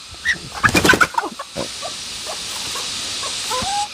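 Chickens in a forest clearing give a burst of clucks and short calls near the start, followed by quieter scattered clucking over a steady outdoor background.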